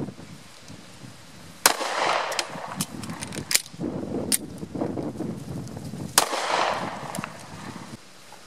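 Taurus G2C compact pistol fired in two sharp, loud shots a few seconds apart, each with a brief echoing tail, against steady outdoor background noise and no talk.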